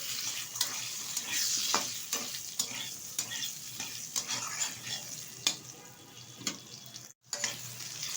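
Potato pieces fry with black cumin in oil for a thin rohu fish curry, a steady close sizzle broken by scraping stirs and a brief silent gap near the end, with no talking.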